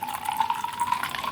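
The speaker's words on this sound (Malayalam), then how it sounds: "ജ്യൂസ് ഒഴിച്ച് കൊടുക്കാം" Grape lemon juice poured into a glass over ice cubes, a short steady liquid stream splashing close up.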